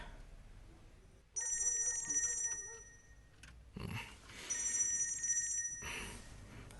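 A telephone bell rings in two long bursts with a pause between, fairly loud and metallic over a low background hum.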